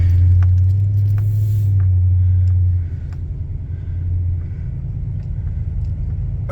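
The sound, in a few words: 2004 Toyota Sequoia truck driving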